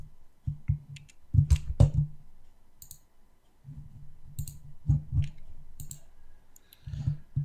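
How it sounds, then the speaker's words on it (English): Keys on a computer keyboard clatter in quick clustered bursts as a web address is typed, with brief pauses between groups and a firmer press for Enter, close and clear with no voices. "just open your browser, type microsoft.com and hit enter"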